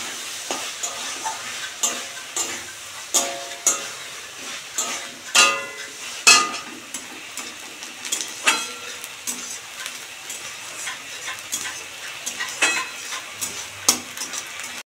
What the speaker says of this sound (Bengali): মশলাটা কষা হচ্ছে